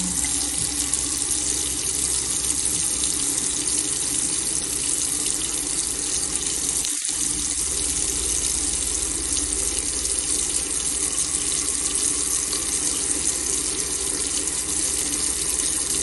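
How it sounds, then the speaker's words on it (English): Taps run water steadily into a sink for a sustained stretch, a close, even gush with one brief break, checked after a drain unblocking job. "And then let's run the taps on."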